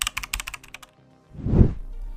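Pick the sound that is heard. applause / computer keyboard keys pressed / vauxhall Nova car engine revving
computer keyboard keys pressed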